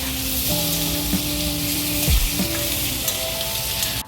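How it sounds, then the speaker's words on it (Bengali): Sliced potatoes fry in hot oil with a little turmeric, giving a loud, continuous sizzle and hiss close by, with occasional stirring scrapes and short tonal clinks from the pan. "আলু ভাজার মধ্যে দিয়ে দেওয়া হয়েছে একটুখানি করে হলুদ দিয়ে তারপর ভালো করে একটু ভেজে নিয়েছে।"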